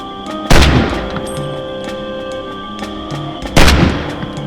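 Two loud, sharp gunshots ring out in the DayZ video game, one near the start and another about three seconds later, each with a booming tail over a steady ambient hum.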